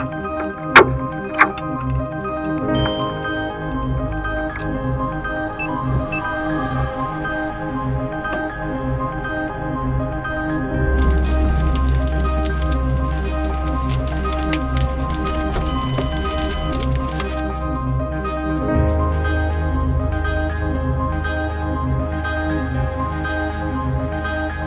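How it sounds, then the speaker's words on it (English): Hail and rain falling during a storm chase as a rotating storm base forms, a steady broadband patter throughout with a denser, harder rattle of hailstones in the middle and a low rumble underneath; no talk. "As hail started to get bigger"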